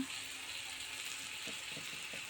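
Washed rice and lentils fry lightly in a pan with a soft, steady sizzle, and a few faint scraping stirs come near the end.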